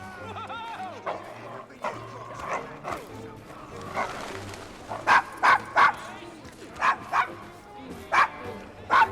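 A dog barks repeatedly and whimpers in a rough street district in Assassin's Creed Syndicate, with loud bursts of barking over game speech and background ambience.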